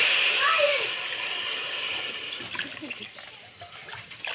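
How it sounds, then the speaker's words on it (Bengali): Measured water is poured into a bowl of sugar for a sweet potato pantua syrup, a steady rushing pour that is strongest in the first second and then trails off into softer trickling. "এবার আমি এই বাটিটা মেপে জলটা দেব। এই বাটির আমি 4 বাটি জল দেব।"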